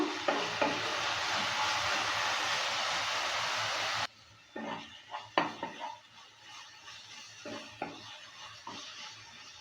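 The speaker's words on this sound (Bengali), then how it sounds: "কিছুক্ষণ সময় নিয়ে মশলাগুলোকে ভালো করে কষিয়ে নেব" Spices being slowly sautéed in a pan for a chickpea and banana-stem curry, a steady sizzle that gives way to quieter scrapes and clinks of a spoon stirring against the pan.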